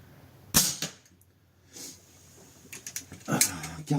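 A 5.5 mm Snowpeak PP750 PCP air pistol fired at a 40-metre target, a sharp close crack followed by fainter clicks and small noises, with one more loud snap near the end.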